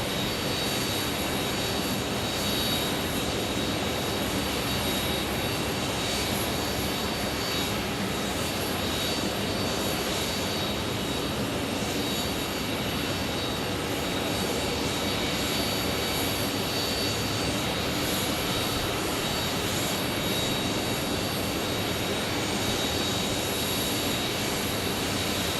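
Jet airliner on a Sioux Falls to Phoenix flight at Phoenix Sky Harbor, a steady broadband engine roar that holds at an even, fairly loud level throughout with no pauses.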